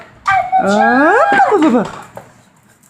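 A pet dog whines and yips in rising, wavering cries while playing with a toy pig, with a person talking briefly over it nearby.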